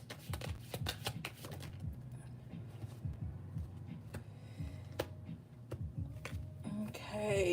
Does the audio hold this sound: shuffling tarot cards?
yes